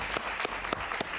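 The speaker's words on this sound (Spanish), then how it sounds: "Un aplauso para él, por favor" A talk-show studio audience on Jaime Bayly's program gives a short burst of applause for banker Eligio Cedeño, with soft, even clapping heard at low volume.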